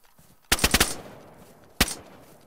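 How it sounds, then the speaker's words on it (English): Gunfire in the DayZ video game: a quick burst of four sharp, loud shots, a short pause, then one more crack, each ringing briefly in an otherwise quiet outdoor scene. "Popped a couple shots at him."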